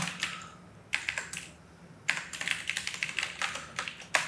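Close keys clatter on a computer keyboard while JavaScript code is typed. Short bursts of quick taps are separated by brief pauses.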